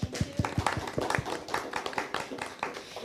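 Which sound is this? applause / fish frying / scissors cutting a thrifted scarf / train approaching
applause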